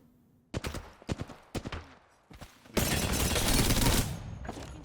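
Gunfire in the Apex Legends video game, several sharp single shots followed by a loud sustained burst of rapid automatic fire, close and punchy.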